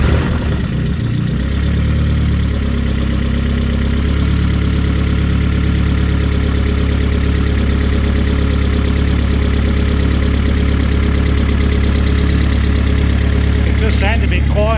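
A cold Cosworth YB engine in a Ford Escort Mk1 cranks and catches, then settles into a steady, loud, low rumbling idle that continues unchanged.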